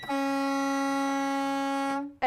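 A loud, sustained motorhome air horn on a 2021 Renegade Verona 40VHB blares steadily for about two seconds, then cuts off, followed by a brief short burst.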